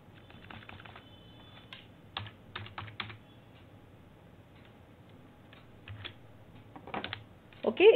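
Computer keyboard typing code during a C programming session, with short bursts of soft key clicks separated by pauses, close and fairly quiet, ending in a louder rustle.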